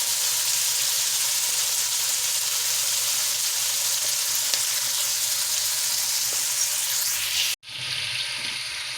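Vegetables for a Jamaican-style chicken and bok choy dish frying in a pan, a steady, close sizzle that runs unbroken for several seconds, then cuts out abruptly and returns slightly quieter.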